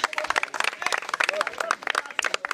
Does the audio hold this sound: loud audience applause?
yes